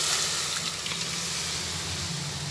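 Fried pointed gourd and potato hit hot oil in a pan, giving a steady, close, dense sizzle that holds evenly throughout with no talking.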